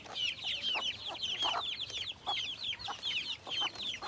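Hens cluck softly and steadily among newly hatched chicks in a farmyard, with the chicks' high peeping chirps repeating thickly over the clucks, close and continuous without speech.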